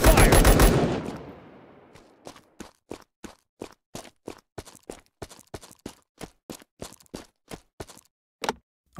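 Video game gunfire: a loud, close burst of automatic fire opens the clip, then dies away into a steady run of sharp, evenly spaced clicks and thuds.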